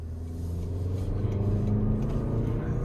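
A 2026 Toyota Grand Highlander Platinum AWD with its 2.4 turbo engine driving on the road, a steady low engine drone and road rumble heard from inside the cabin, with no talk.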